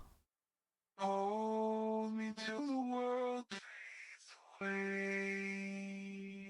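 A sustained synthesized tone in a music track with a whisper texture effect, breathy and airy, shifting pitch a few times, close and steady.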